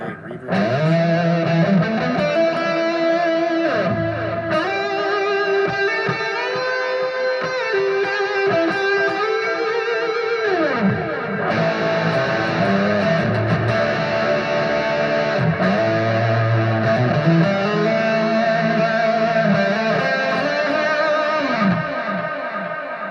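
Electric guitar through a small amp on a preset with heavy delay and reverb, sustained bending lead notes ringing and overlapping in a wash of echo, loud and continuous.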